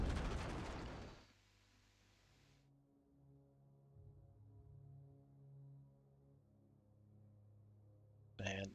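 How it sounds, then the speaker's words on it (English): A loud explosion effect in Adeptus Titanicus: Dominus erupts in a harsh broadband burst that cuts off after about a second, followed by a low rumbling tail and quiet tones, then a second sharp blast at the very end. "Just delayed sound effects on the explosion."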